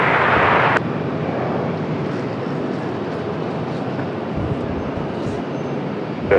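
An Air Canada jet from Montreal arrives at Raleigh-Durham International Airport, its engines a loud, steady broadband roar that holds throughout, opening with a brief brighter burst.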